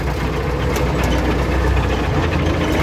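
MTZ-80 tractor engine running steadily under load while spraying soybeans in a field, a loud, continuous low diesel drone heard up close with no speech over it.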